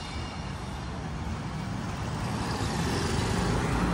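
Traffic roars steadily along a main road in Pattaya where taxis pass. The dense, continuous rush of cars and heavier vehicles stays loud throughout with no talk.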